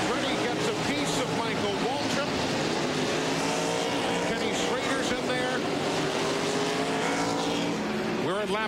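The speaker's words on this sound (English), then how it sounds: "Oh, and here goes Skinner. He spins. Oh, and he's going to take out others." NASCAR race cars roar past in a dense, continuous engine drone on the track, loud and close, with a commentator talking over it.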